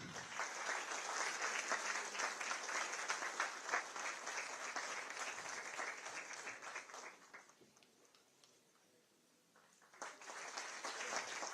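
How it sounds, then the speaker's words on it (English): An audience at a college event in New Delhi gives a long, dense round of applause, steady clapping that thins and dips briefly near the end before picking back up. "Please give a big round of applause."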